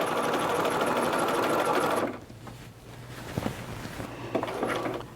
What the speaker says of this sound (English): start the new line of basting again, next to the first line of basting stitches